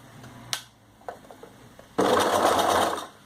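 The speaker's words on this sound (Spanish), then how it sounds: "pueden coserla, si no tienen overlock, con la máquina de coser haciendo un zigzag" Sewing machine running a zigzag stitch along the folded edge of cape fabric, a steady burst of stitching in the second half after a few light handling clicks and taps, close and moderately loud.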